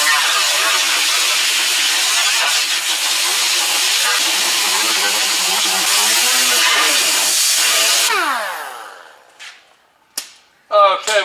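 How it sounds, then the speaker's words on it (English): Grinder scours undercoating off the inside face of a rusty Chevy Chevelle body panel, a loud, harsh, continuous hissing grind lasting about eight seconds before spinning down, followed by brief bursts of grinding. "I'm going to grind the inside face of this and try to get some of that undercoating off of it."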